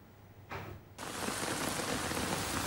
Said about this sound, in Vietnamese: do ảnh hưởng của bão số 6 gây ra mưa lớn